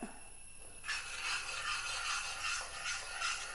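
Spoon stirring a pickle mixture with salt and turmeric in a pan, a gritty, rasping scrape that starts after a short pause and continues steadily, close and moderately loud, no talking.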